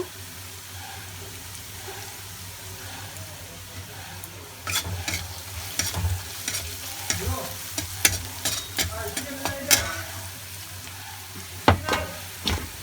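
Cumin seeds hit hot oil for a greens dish, a continuous close fry that builds into busier crackling and stirring scrapes midway, with clicks and pops over a low hum, no talk.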